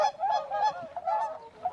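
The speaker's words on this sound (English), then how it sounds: "he spotted a flock of large white birds with long necks flying overhead" Honking calls from a flock of swans overhead, several in quick succession, fairly loud and continuous, like a flock calling as it passes.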